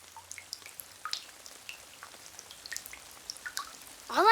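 Rain drips in scattered, soft, irregular drops that patter faintly against a surface, with a louder burst of sound rising at the very end.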